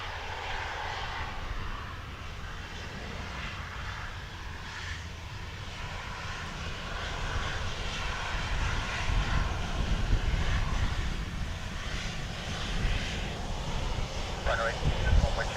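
A Dubai Air Wing Boeing 747 comes in to land at Dublin Airport, its broad engine roar swelling gradually in the distance beneath radio chatter.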